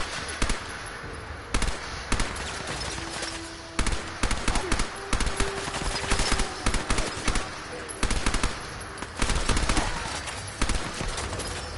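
Tactical submachine gun in a video game firing repeated rapid bursts, loud and close, with short pauses between volleys and a brief lull near the middle.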